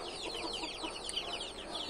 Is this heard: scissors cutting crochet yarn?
no